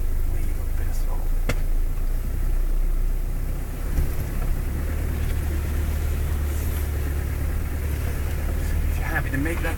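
A 4x4 off-road vehicle drives with a steady low engine rumble as light throttle is applied, mixed with continuous wind and road noise throughout.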